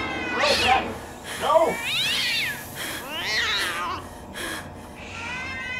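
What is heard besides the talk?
cats meowing in the video game Ju-On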